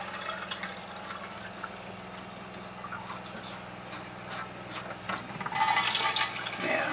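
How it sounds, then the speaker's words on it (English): Water drains steadily from a sink with its strainer pulled out, a soft continuous gurgle and trickle that swells into louder splashing and clattering near the end. "While this water's running out, I'll back flush the strainer"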